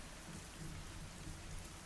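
Steady, dense rain pours down as ambient background for a tabletop role-playing game, a continuous even hiss with no pauses or voices over the short stretch.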